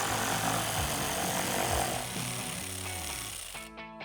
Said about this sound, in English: So I'm gonna use a 10mm socket to remove those 2 bolts.